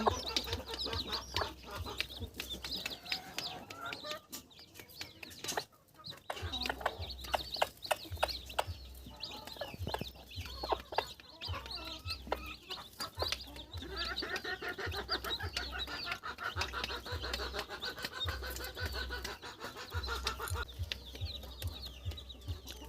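Newly hatched chicks from a home-made incubator chirp continuously nearby, in a busy overlapping chorus of high peeps while they gather at water.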